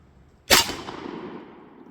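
A single sharp .45 Long Colt gunshot firing a Hornady FTX bullet into a NY-legal training vest plate, loud and close, trailing into a short outdoor decay with no talk.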